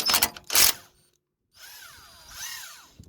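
A power tool drives a number 14 socket while removing a bolt during an ABS sensor cable replacement on a Toyota Yaris Vitz, giving two short whining bursts that rise and fall in pitch after a few sharp clicks and handling noises.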